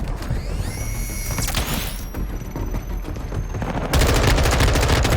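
Rapid automatic gunfire in the video game Call of Duty: Modern Warfare II, dense loud bursts with mechanical whirs and clatter, intensifying toward the end.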